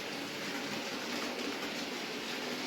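Hornby model trains running on a layout track, including an orange D tank engine pulling a short train, give off a faint, steady rolling rumble and hiss with no distinct clicks or voices.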